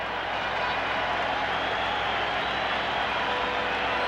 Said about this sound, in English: Crowd noise building